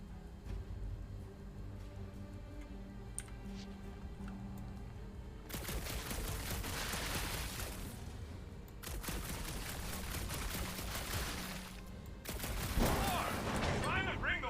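Video game gunfire, loud sustained bursts of rapid shots arriving in three long volleys after a quieter stretch, with brief gaps between them and low background noise.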